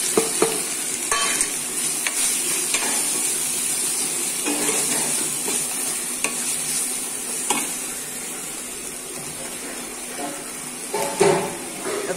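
Green chilies fry with garlic in hot oil for a yogurt chutney, hissing and sizzling steadily close up while a spoon stirs and scrapes the pan now and then.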